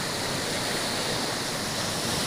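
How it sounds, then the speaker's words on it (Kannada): Floodwater rushes across a road in Chikkamagaluru during relentless heavy rain, a dense, steady roar like a waterfall or stream that stays loud and unbroken throughout. "ಪ್ರವಾಹದ ರೀತಿ ನೀರು ಹರಿತಾ ಇದೆ."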